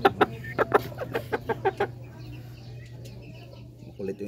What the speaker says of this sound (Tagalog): meron tayo mga magagandang manok